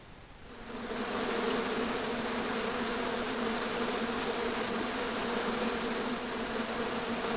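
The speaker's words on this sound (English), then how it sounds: "As I walked towards the bush, it started buzzing angrily." Hornets buzzing angrily inside a bush in the video game Broken Sword 2, a loud, steady, continuous droning hum that swells in the first second and then holds without pause.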